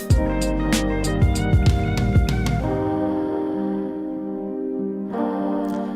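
A produced hip-hop beat's breakdown bridge: punchy drum hits and a tom transition give way to a sustained synth lead and bass that ride alone for the final seconds, loud and steady.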